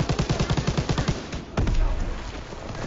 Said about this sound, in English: Oh, they've been shooting from up here.